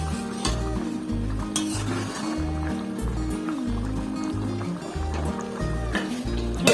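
Vegetable curry simmering in a pan while being stirred, a continuous bubbling sizzle with scraping strokes across the surface, fairly loud and without talk.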